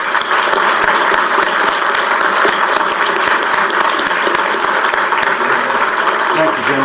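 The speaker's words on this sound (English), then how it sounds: "these 2 fellows deserve a round of applause" Audience applause after a county commissioner debate in Jefferson County, a sustained roomful of sharp hand claps, loud and close, continuing steadily without a pause.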